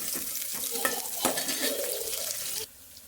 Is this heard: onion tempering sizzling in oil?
yes